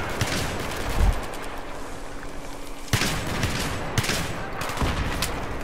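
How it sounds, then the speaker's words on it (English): Saiga 12K shotgun frag rounds bursting in Battlefield 3, a dense barrage of gunfire and sharp blasts, with stronger cracks near one, three, four and five seconds over continuous battle noise. "the rounds explode, you can shoot them at the ground"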